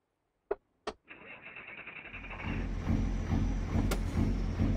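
A Cat V12 engine in a W900 truck in American Truck Simulator, with two sharp clicks followed by the starter cranking and the engine catching into a deep, loping idle that keeps running loud and steady.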